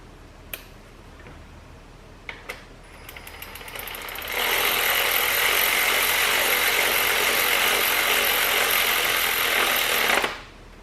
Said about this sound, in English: So now that we got them snugged up with the ratchet here, the electric ratchet